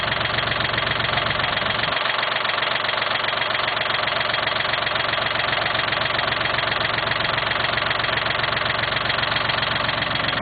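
A Cub Cadet diesel engine idles steadily, a loud, even chugging with a slight knocking rhythm that holds throughout.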